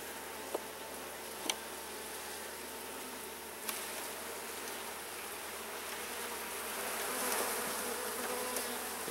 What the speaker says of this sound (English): Lots of bees on there, look at that.